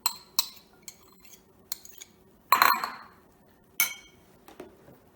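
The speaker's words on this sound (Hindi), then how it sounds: "अब इसमें पूरा अनारदाना मैं डाल दे रही हूँ।" Pomegranate seeds go into a salad bowl along with fruit, giving sharp, scattered clinks and taps against glass or utensils, with one louder pouring rattle midway, close and distinct over a quiet background.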